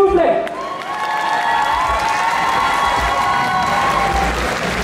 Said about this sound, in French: Je vais vous demander s'il vous plaît un tonnerre d'applaudissements pour Uli Puni, s'il vous plaît.